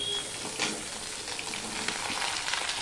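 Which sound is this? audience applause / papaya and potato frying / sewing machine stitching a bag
papaya and potato frying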